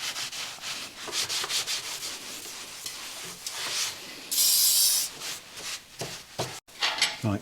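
Steady rubbing and wiping as the belly pan of an Indian Challenger or Pursuit motorcycle is cleaned off, close and even, with a brief sharper hiss partway through.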